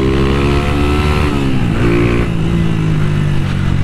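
A Honda Titan 160 motorcycle with a two-step and an Athlon exhaust revs loudly up close, its throbbing engine tone rising and dipping through several seconds with no talk.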